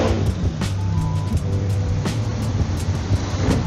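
Motorcycles pass along a road, a steady loud low engine drone with a few louder whooshing pass-bys rising and falling over a few seconds, no talk.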